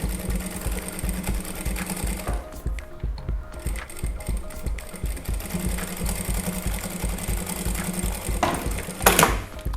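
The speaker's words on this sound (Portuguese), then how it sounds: "Bem devagar, sem pressa, para que a gente consiga colocar o mais na bordinha possível, tá?" A sewing machine stitches slowly along the fabric edge of a bra top, a close, loud, steady rapid mechanical chatter that pauses briefly and then resumes.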